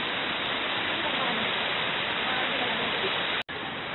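Waterfall at Hinulugang Taktak in Antipolo City, a steady broadband rush of falling water that fills the whole clip at an even level, with a brief dropout near the end.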